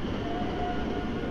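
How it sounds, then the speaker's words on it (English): Underground train pulling out of a station in a video game, a steady low rumble of rolling carriages with a thin high whine running through it, continuous and fairly loud with no talk. "The train is leaving."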